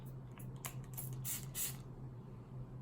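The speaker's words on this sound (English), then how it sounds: "we are going to go ahead and try out the new Smashbox setting spray" Smashbox setting spray bottle giving several short, crisp hissing bursts in quick succession, close by, over a low steady hum, then quiet.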